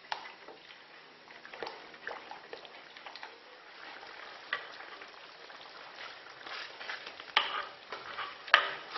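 Pear and lemon jam bubbles in a pan, with soft irregular plops and a gentle simmering crackle close by, broken by a few sharper stirring clicks near the end.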